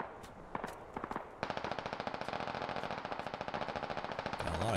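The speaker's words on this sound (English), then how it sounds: "got a lot of cover fire going on up front" Rapid automatic gunfire from the video game Squad Ops, starting with a few scattered shots and then settling into a steady, fast stream of rounds that keeps going to the end.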